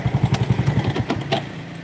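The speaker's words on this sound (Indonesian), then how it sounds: "Ini suara rantai keteng ya," A Yamaha Force motorcycle engine with a rough, rattling cam chain idles close by with the body panels off, giving a rapid, loud, pulsing clatter that fades toward a steadier hum.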